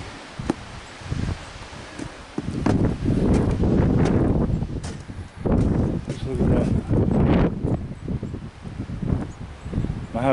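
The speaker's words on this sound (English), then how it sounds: "Boy, is it ever windy." Strong wind gusts buffet the microphone during a snowstorm in Canada, roaring bursts that rise and fall over several seconds, loud and close.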